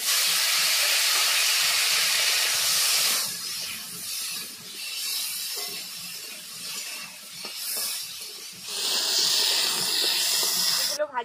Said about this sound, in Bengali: মাছ ভাজার তেলের মধ্যেই আলু ভেজে নেব